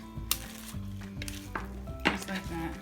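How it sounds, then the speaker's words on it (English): Barbecue sauce dressing is stirred into pulled pork, with close, soft wet mixing and scraping and a few utensil clinks against the bowl over a steady background hum. "I like to put in a little first, mix it up, and then add the rest of the dressing."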